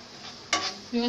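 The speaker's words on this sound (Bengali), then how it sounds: "আমরা এখন চালটা খুব ভালো করে ভেজে পাক আসা পর্যন্ত আমরা এটাকে নেড়ে নিব" Washed, drained rice stirred into fried spice masala in a pot for chicken biryani: a close sizzle with two sharp scraping stirs of a spatula against the pot.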